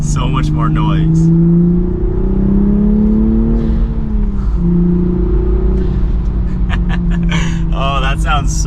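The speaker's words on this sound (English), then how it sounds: "You even hear the blow off as I downshifted right there." A manual Toyota Supra with an aftermarket MST intake drones under load with loud turbo whoosh. The revs climb, then dip at a downshift, and short airy blow-off hisses and chatter follow near the end.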